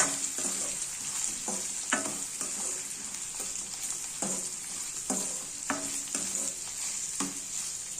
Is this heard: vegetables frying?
yes